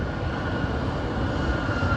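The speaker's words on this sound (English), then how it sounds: "You can hear American flight for Chicago revving up and starting to taxi down the taxiway." An American Airlines jet bound for Chicago revs its engines and begins taxiing at Burlington International Airport, heard as a steady, broadband engine roar from a short distance away, with no talk over it.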